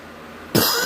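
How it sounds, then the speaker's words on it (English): A single harsh, wet cough from someone with a cold and heavy phlegm, sudden and close after a quiet moment, with no speech. "I am coughing up buckets of phlegm."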